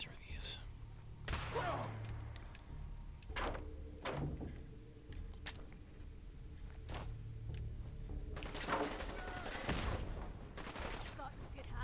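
Gunfire in Fallout 4, scattered sharp shots and short bursts spread across the stretch, some close and loud, over low rumbling ambience and occasional quiet voices.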